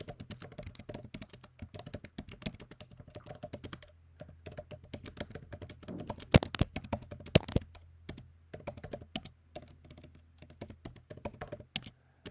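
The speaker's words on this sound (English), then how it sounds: "So I type something in here that explains what someone could see in this image." Close, fast typing on a computer keyboard, with irregular bursts of crisp key clicks and occasional heavier thunks from spacebar or enter presses, heard alone with no speech.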